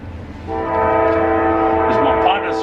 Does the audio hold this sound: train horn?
yes